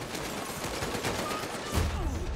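Close-range gunfire in the VR shooter Medal of Honor: Above and Beyond, with a dense run of rapid, punchy shots over loud battle noise and a heavier low thump near the end.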